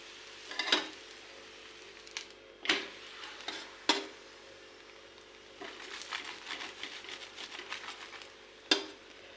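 Sozi poli, a semolina flatbread, roasting in oil on a pan: a faint low sizzle with scattered sharp clicks and taps of a utensil, and a busier patch of crackling near the end, no talking.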